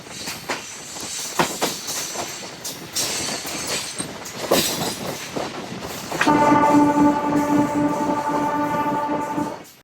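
A MEMU express train on the Nellore to Vijayawada run gives rhythmic wheel clatter and rumble, then a long, loud horn blast holds steadily from the midpoint to the end.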